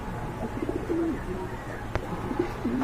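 Pigeons in a pair at a market stall give a few soft, low coos, with one short sharp knock partway through.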